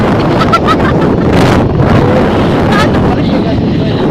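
Loud, constant wind buffets the microphone during a motorcycle taxi ride, a roaring rush with gusty swells that runs through the whole stretch alongside the hum of the motorcycle.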